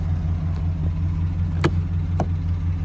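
A 2018 GMC Sierra pickup with dual exhaust idles with a steady, loud, low rumble throughout, broken by a couple of brief sharp clicks and no talking.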